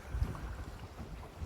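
Sailboat under way at night on open water, a brief steady rush of wind and water against the hull, close and muffled, with low gusty rumbling and no voices.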